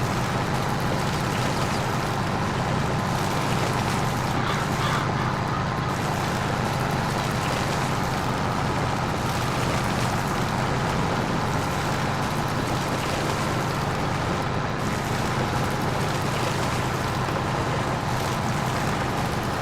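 A tractor engine labours while climbing a hill, producing a loud, unbroken, strained drone that holds steady throughout with no pauses and no voices.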